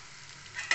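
Tomatoes and onions frying in a kadhai for kadhai paneer at home, a short stretch of steady stirring and sizzling that swells louder near the end as the ingredients are moved around the pan.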